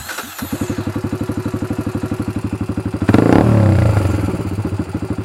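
A Honda 300EX quad idles with a close, rapid, even engine thump, then revs sharply for about a second before settling back to its steady idle.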